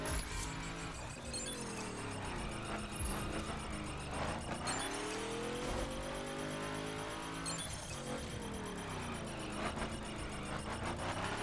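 A drag car engine in The Crew revs hard and accelerates, a loud continuous roar with pitch climbing and dropping through repeated gear changes, steady and close with no talking.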